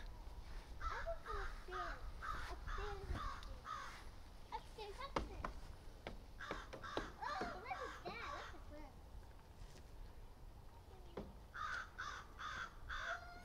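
A crow at a heritage park with livestock caws angrily in repeated bursts of several harsh calls, fairly near, while children and other people talk and play in the background.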